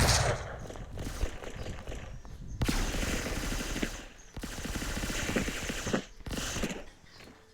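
Heavy bursts of rapid gunfire in the video game Blockman Go, loud and sustained, with brief gaps between volleys of automatic shots and explosive cracks.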